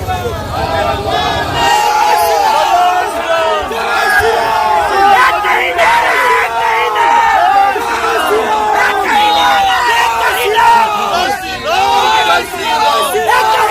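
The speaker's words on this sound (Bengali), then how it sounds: "তৃণমূল কর্মীরা জয় বাংলা স্লোগান দিতে শুরু করলে পাল্টা বিজেপি কর্মী সমর্থকরা জয় শ্রীরাম স্লোগান তোলেন" A crowd of rival party workers at a nomination filing in Durgapur, West Bengal, chanting Joy Bangla and Jai Shri Ram slogans, loud and continuous massed voices with rhythmic shouted cries and babble throughout.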